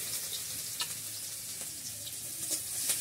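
Onion frying in mustard oil in a home village kitchen gives a steady, close sizzling hiss with scattered small crackles and pops throughout.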